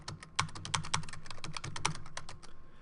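Rapid keystrokes on a computer keyboard make a steady run of close, crisp clicks with uneven spacing, and no one talks over them.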